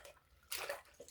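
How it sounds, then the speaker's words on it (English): Water draining from a sink after washing plastic fan parts, a brief gurgling rush in the middle of a quiet moment, faint and close. "Start draining the water"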